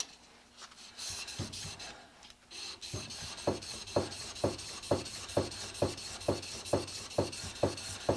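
The back of a Stanley #151 blade is rubbed flat on a sharpening surface, a close gritty rasp that starts uneven and then settles into a steady rhythm of about a dozen back-and-forth strokes.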